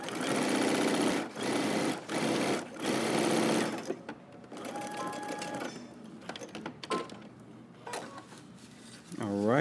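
A sewing machine runs a basting stitch on a Simplicity 8615 jumpsuit in several loud, fast bursts separated by short pauses, followed by quieter handling of fabric and a voice talking.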